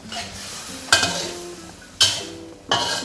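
Pumpkin being stir-fried in a pan with a little water, with three sharp scraping clatters of a utensil against the pan over a faint, steady sizzle.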